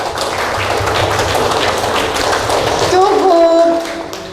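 A group of teachers clapping their hands together in a sustained, dense patter at a training session, continuing steadily before fading as a voice and a brief musical tone come in near the end.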